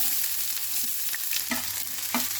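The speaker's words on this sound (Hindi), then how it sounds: "तेल गर्म हो जाए तो हम तेल में डालेंगे थोड़ा सा राई, प्याज" Mustard seeds and onion fry in hot mustard oil in a pan, giving a steady close sizzle with a few louder crackling bursts and stirring sounds. No one speaks.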